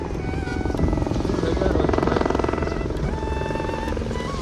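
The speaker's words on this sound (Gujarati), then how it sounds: "પાંચ મિનિટ પાંચ મિનિટે હેલિકોપ્ટર નીકળ્યા છે ભાઈ" A helicopter thrums nearby at Sonprayag, Uttarakhand, with a rapid rhythmic rotor chop, steady and fairly loud, while people talk over it.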